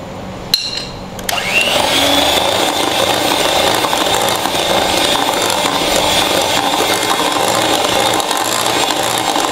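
Tea cake batter and eggs are beaten with an electric mixer, a loud steady mechanical whir that starts after a brief clatter and runs continuously without talk.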